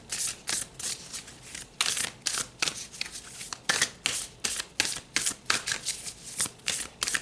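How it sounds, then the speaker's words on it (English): Tarot cards being shuffled by hand: a close, crisp run of riffling and flicking, repeated in quick, uneven bursts with no talking. "Let's pull another card here and see what else Spirit would like to"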